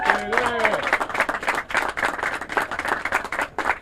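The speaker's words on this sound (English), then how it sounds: "Let's give him a round of applause." Crowd applause at an outdoor neighborhood clean-up kickoff, brisk rhythmic clapping from a small group, close and steady, with a voice briefly heard as it begins.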